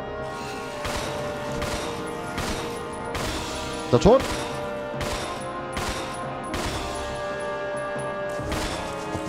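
Repeated gunshots in Resident Evil Zero fire at a steady pace, with a sharp crash near the middle, while someone talks over the shooting.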